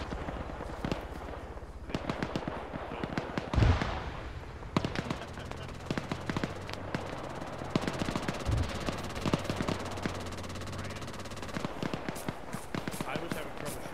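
Bursts of rapid gunfire in a tactical military shooter game, with sharp single shots and automatic volleys scattered across the scene, some close and loud, with people talking over the shooting throughout.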